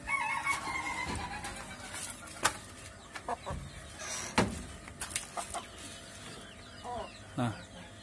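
Scattered Siamese chicken clucks, close by, in short irregular bursts with brief pauses, while being fed banana stems, over a busy farmyard background with some distant voices.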